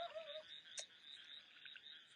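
A steady chorus of frogs croaking, faint and distant, forms a continuous high-pitched background with one brief sharper call partway through.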